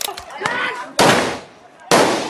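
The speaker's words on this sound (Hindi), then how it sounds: "AK-47 से पुलिस ने ताबड़तोड़ फायरिंग की।" Loud gunshots from police AK-47 rifles crack out in three sharp bangs with long echoing tails, spaced about a second apart outdoors, with crowd shouting under the first.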